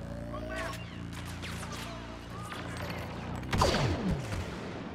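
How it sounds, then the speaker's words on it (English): A barrage of blaster gunfire in the Star Wars Battlefront game, rapid sharp shots and zips scattered through the clip, with a louder burst near the end and a voice talking over it. "Oh, that barrage almost killed me."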